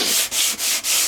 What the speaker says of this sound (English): which is sanding the faces lightly